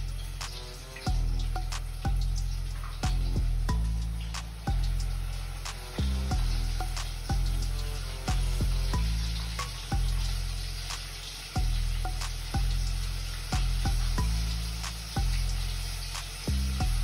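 Chicken pieces deep-frying in hot oil for homemade KFC-style fried chicken, a loud steady sizzle broken by repeated thumps and clatter roughly every second as pieces are moved around.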